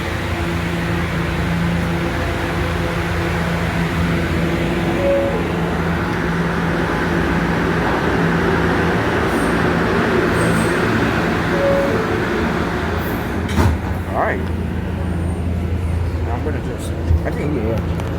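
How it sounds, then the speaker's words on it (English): NYC subway R211A B train running, a steady loud rumble and whine from inside the car with brief tonal beeps and a clunk near the end; an announcement voice speaks over it. "This is a Bronx-bound B train."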